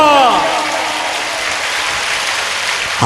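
A church congregation claps for the Lord, a dense, steady burst of applause that follows a brief voice and continues for about three seconds.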